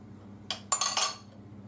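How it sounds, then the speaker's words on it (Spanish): A utensil scrapes and clinks against a bowl while stirring a chocolate cream mixture, a few quick, close metallic strokes over quiet hum. "Y seguimos revolviendo."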